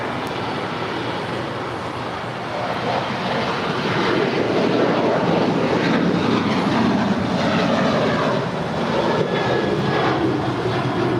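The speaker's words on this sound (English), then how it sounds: "That is United 2361 departing to Houston. It's a 22-year-old 737-800." A 22-year-old United Airlines Boeing 737-800 jet departs LAX, its broad engine roar building steadily and staying loud and close throughout, with no voices over it.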